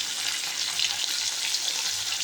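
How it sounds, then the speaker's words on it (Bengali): Pieces of katla fish fry in hot oil in a wok, giving a steady, close sizzle that holds its level throughout with no one speaking. "আমি দুবারে মাছগুলো ভাজবো।"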